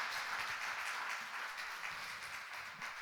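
Church congregation applauding during a Sunday service, a steady dense wash of many hands clapping, moderately distant and sustained throughout.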